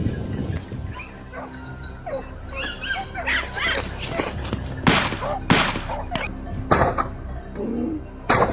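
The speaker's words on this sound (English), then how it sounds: "our dogs barked sharply" Hunting dogs on a wild boar hunt bark in sharp, loud bursts, with a few strong barks near the middle and end over a busy outdoor background of whimpers and yips.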